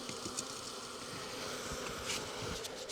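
A close, continuous drone of honeybees being rolled and coated in flour, steady buzzing with faint rustling and a bump near the end, no voices.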